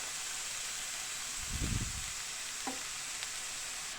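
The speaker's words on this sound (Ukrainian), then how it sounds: "даю, щоб капуста трошечки тут чуть-чуть так обсмажилася спочатку" Cabbage frying quietly in a pan, a soft, even sizzle with a brief louder scrape of stirring midway and a small clink afterward.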